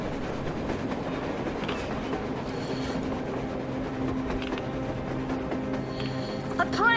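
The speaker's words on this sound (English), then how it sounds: "A train! A damn train on the surface!" A train rolls along surface rails in Metro Exodus, a steady low rumble with faint clatter and occasional squeals continuing throughout, without speech.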